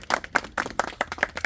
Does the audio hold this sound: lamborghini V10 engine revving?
no